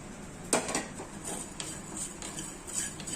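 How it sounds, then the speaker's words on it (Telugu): Cumin, fenugreek and coriander seeds dry-roasting in a pan, with a few scattered metallic scrapes and taps of a utensil against the pan over a low, steady background, close and fairly quiet. "ఇవన్నీ ఇలా లైట్గా వేయించుకోవాలి ఇలా వేసుకున్నప్పుడే ఈ మిరియాలను కూడా దీంట్లో వేసేస్తాను"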